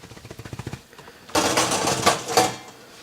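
A quick run of light rhythmic taps, then a burst of clattering metallic knocks and scrapes as loaves of bread are shaken free from greased baking pans.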